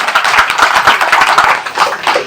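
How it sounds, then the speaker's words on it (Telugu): A crowd claps loudly for Chandrababu Naidu at a local TDP gathering in Palnadu, with many hands beating in a steady, close, unbroken patter from start to finish. "ఒకసారి గట్టిగా చప్పట్లు కొట్టండి చంద్రబాబు నాయుడు గారికి."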